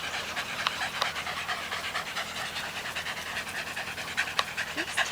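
A dog pants rapidly and steadily in quick, breathy rhythm, close by, with faint background noise.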